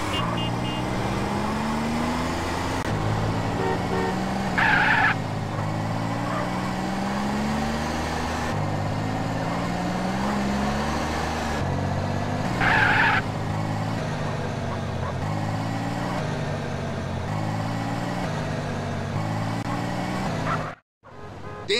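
A car races at speed while being chased in GTA San Andreas, its engine repeatedly revving up through rising gear sweeps. A steady road roar runs underneath, with a brief dropout near the end.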